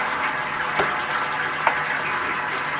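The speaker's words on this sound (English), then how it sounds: "there's going to be a fair amount of fluid that comes out of this" Automatic transmission fluid pours from a car's transmission into a large drain pan, a steady liquid gush with a couple of small splashy bumps, close and continuous.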